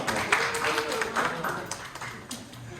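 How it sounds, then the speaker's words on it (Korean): A church congregation at a youth worship service claps for a child, a short burst of scattered clapping with voices murmuring underneath. "가은이 위해서 박수 한번 해주세요"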